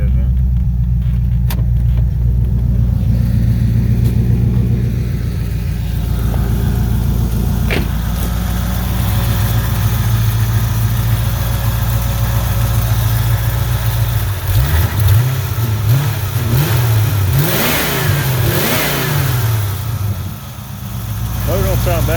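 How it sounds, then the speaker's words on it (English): C4 Corvette engine, a project car running cold with a throttle dead spot, idles with a steady rumble up close and then revs several times, with someone talking over it. "see how it hit the throttle. But it sounds good. Like the motor sounds good, man."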